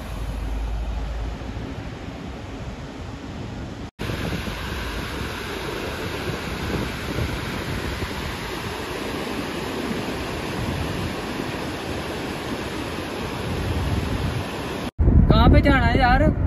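Mountain waterfall near Babusar Top, a steady broadband roar of rushing water mixed with wind noise on the microphone, with people talking over it.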